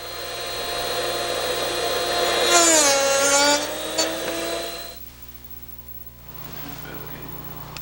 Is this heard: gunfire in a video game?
no